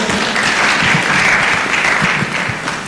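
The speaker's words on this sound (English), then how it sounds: "Let's give them a big round of applause." Steady, dense applause from a large crowd at a youth exhibition, loud and sustained throughout, easing off slightly at the very end.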